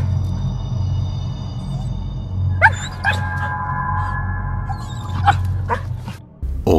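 A dog out in the woods makes a few sharp, scattered yips and whimpering barks over a steady low background rumble, partly distant and alone without talk.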